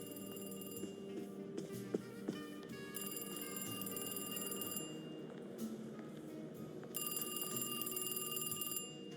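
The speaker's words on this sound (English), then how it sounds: "go over and answer the phone in somebody's office that I'm not supposed to be in" An office desk telephone rings in the video game Alone in the Dark, with repeated electronic ring bursts in a slow, even pattern over a low ambient drone and a couple of faint clicks.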